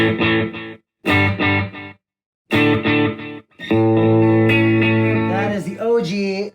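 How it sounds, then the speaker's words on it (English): Telecaster-style Kurt Wilson guitar run through a HandleBox pedal on its OG setting, hard mode: a few short distorted chord stabs separated by silences, then a long sustained overdriven chord that wavers and bends at the end, loud and close. "OG setting, and that is on the, geez man, it's on the hard setting."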